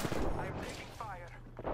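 Video game gunfire from Apex Legends, with dense, loud bursts of shots and impacts filling the short clip, layered with game effects.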